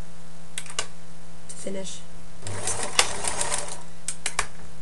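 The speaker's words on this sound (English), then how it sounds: "But just sew to the end." A sewing machine stitching a kite pocket runs in a short, close burst of rapid mechanical whirring, bracketed by a few clicks, while a voice speaks briefly.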